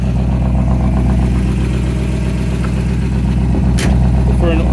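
A 1955 Ford Fairlane Victoria's older carbureted engine idles smoothly and steadily through glass pack exhaust, a loud close rumble with an even low pulse, a brief sharp clatter near the end.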